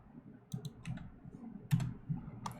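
A handful of light, scattered keystrokes tap on a computer keyboard, quiet and close, with small gaps between the clicks.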